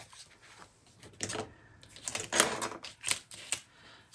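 Paper trimmer slicing through stickers, a series of short scraping, clicking strokes at irregular intervals, close and fairly quiet with no talk.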